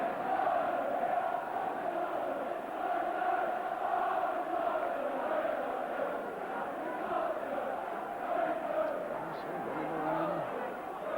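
Huge football stadium crowd at a 1984/85 FA Cup Liverpool v Tottenham Hotspur match on snowy Merseyside, a steady, dense roar and murmur of thousands of fans that swells slightly and keeps going throughout.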